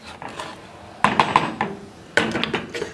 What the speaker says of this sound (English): I'm going to be mixing it one last time